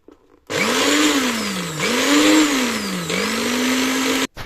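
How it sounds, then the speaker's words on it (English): A blender whirs loudly for about four seconds, crushing leaves for black soup, its motor pitch dipping and rising as it churns through the contents, then cuts off. "I just think I should use my big blender."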